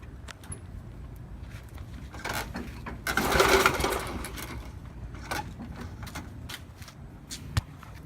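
A 36-inch Bunton walk-behind mower engine runs nearby, a steady mechanical drone with a louder surge in the middle and scattered clanks and clicks over it.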